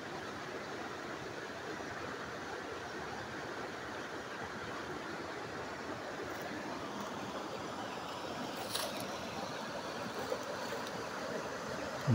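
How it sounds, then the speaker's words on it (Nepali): Steady rushing flow of the Marin river beside a cave, a continuous broadband wash with no pauses, fairly close and even throughout, no voices. "मरिड नदी छङछङ आवाजमा बगिरहेकी छिन्"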